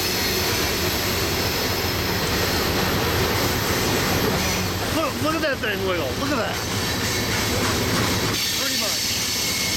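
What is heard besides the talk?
very long freight train passing in Rochelle, Illinois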